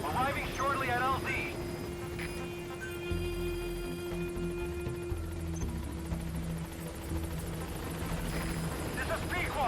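The Pequod helicopter inbound to a landing zone in Metal Gear Solid V, a steady rotor drone under game dialogue, tonal whine and effects layered over the low hum.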